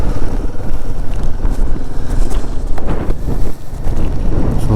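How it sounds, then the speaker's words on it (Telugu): Strong cold wind near Rohtang Pass and the Atal Tunnel roars and buffets against the microphone during a motorcycle ride, loud and continuous with gusty surges and no talking. "సో ఇక్కడైతే ఘోరంగా గాలి వస్తుంది, చల్లటి గాలి."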